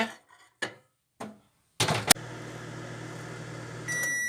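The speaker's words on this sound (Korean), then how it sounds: "호빵 전자레인지에 돌렸고" A hoppang steamed bun heats in a microwave oven: a few soft clunks and a door or button click, then the oven's steady hum starts and runs on, joined by a faint higher tone near the end.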